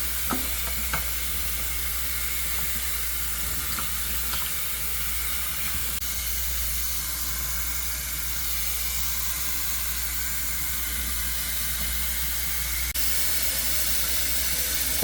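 Water rinsing a dirty air filter from a hotel room in a kitchenette sink, a continuous, loud, hissing rush of running water held steady for the whole stretch, with no voices.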